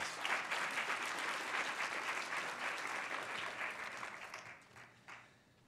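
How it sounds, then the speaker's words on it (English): Audience applause following a reading at a city council district event, a steady wash of clapping from a full room that holds for several seconds and then thins out and fades at the end. "If we could just give her one last round of applause."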